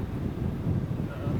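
Wind buffeting a microphone on a disc golf course, a steady low rumbling roar that fills the whole moment with no clear break.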